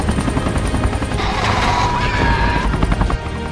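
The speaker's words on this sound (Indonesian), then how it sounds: "helikopter jemputan pun datang" Rescue helicopter arriving in a zombie film: a loud, continuous rotor roar fills the scene, mixed with booming, rumbling film effects throughout.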